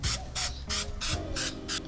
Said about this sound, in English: Now I gotta spray these off.